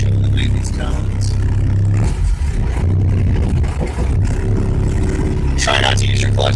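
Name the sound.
Unimog truck engine running while driving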